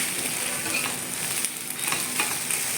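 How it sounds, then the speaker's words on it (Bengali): Eggs frying in oil in a pan while being stirred for egg bhujia, a steady close sizzle with scraping stirring strokes throughout, no talk. "কড়া করে ভাজো। হ্যাঁ ভাজছি।"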